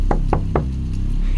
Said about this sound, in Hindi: किसी ने दरवाजा खटखटाया था।